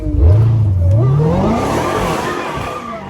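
Dodge Hellcat engine roaring loud and close as it accelerates, pitch climbing steadily through the rev range before dropping with a gear shift and pulling again, with a raw, sustained exhaust rumble throughout.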